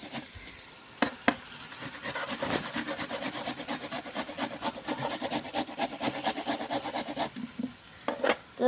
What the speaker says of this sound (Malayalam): ഇതുപോലെ നമുക്ക് എല്ലാ ക്യാരറ്റും ഒന്ന് ഇതുപോലെ ഗ്രേറ്റ് ചെയ്തെടുക്കാം